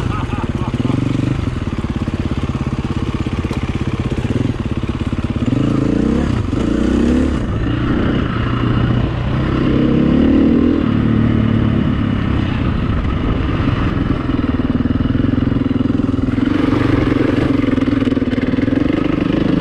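Motorcycles idle and rev outside on a rural lane, a steady close engine rumble with rising revs partway through and near the end, while people talk over it.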